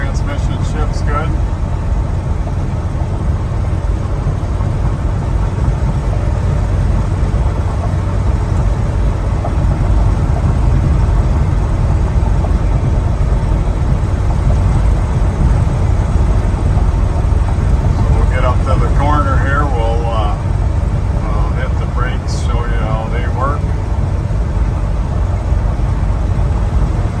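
A 1978 Ford F150 truck with a 4-speed manual transmission drives along the road, a loud continuous low engine and road rumble filling the cab, with faint voices briefly audible partway through.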